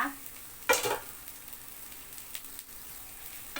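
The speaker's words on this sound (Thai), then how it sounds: "ก่อนอื่นเลยเราจะต้อง เจียวกระเทียมกับน้ำมันให้หอมๆก่อนนะคะ" Garlic frying in oil for Thai stir-fried kale with pork, a soft continuous sizzle with a sharp scrape or stir near the start and a few faint clinks, no talk.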